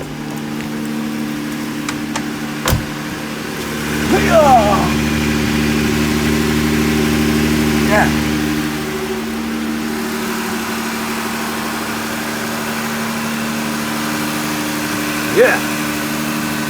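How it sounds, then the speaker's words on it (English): A Jeep Wrangler JL engine idles steadily just after an oil change, a close, even hum with a few brief revs and clicks on top and no talk over it. "I'm gonna go ahead and start it up, check the leaks"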